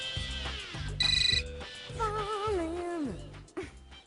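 A melodic phone ringtone plays alone over a steady rhythmic beat, its tune rising and falling with warbling notes.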